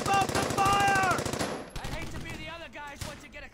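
Machine gun fire in the Brothers In Arms video game: a rapid, loud burst of automatic shots for about a second and a half, followed by scattered gunfire and battle noise while voices shout over it.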